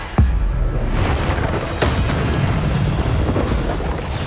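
Bombarda blasting spell explosions in Hogwarts Legacy on PC, a run of loud, sharp booms with a heavy rumbling tail, repeated bursts landing within a few seconds amid continuous combat noise.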